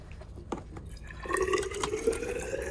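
Water from a lab carboy poured into a graduated cylinder while preparing agar plates, a steady trickling fill that starts about halfway through and runs close and moderately loud to the end, with a few clinks before it.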